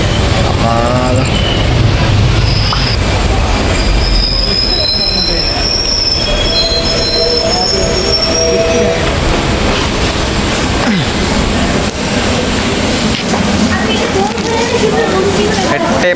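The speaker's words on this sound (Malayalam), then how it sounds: "പരശുരാമ എക്സ്പ്രസ്സിലെത്താം നമ്മളുള്ളത്." The Parasuram Express runs on rails near Kasaragod station, a loud, continuous roar of wheels with high-pitched squealing throughout and faint talk underneath.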